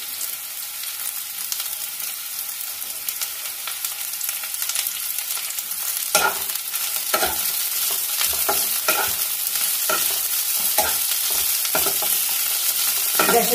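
Cabbage sautéing in a pan for chicken and vegetable thukpa, a constant hissing sizzle that grows louder midway, with a run of sharp stirring taps and scrapes against the pan.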